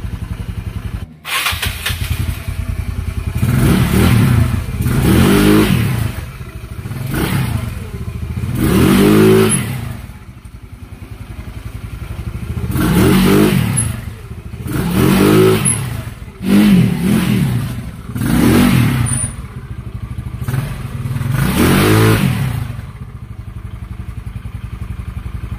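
A Yamaha Mio Sporty scooter engine, freshly cleaned and tuned carburetor, revs repeatedly in loud bursts roughly every few seconds, rising and falling over a steady idle clatter, close up with no talking.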